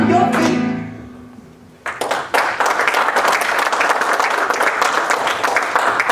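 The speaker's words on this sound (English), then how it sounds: "clap and stomp your feet" Indoor event audience breaking into loud, dense clapping with foot stomping after music fades out, rhythmic and sustained, close and full.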